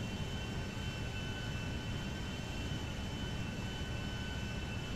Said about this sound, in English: Jet airplane is plane of Grand Theft Auto 5.